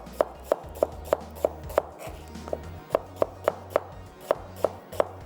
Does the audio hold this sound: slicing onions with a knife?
yes